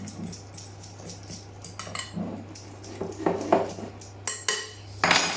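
A utensil clinks and scrapes against a bowl while flour is mixed with white pepper and salt seasoning for a venison casserole, light irregular taps close by with no talk.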